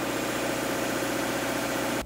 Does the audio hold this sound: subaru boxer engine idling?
yes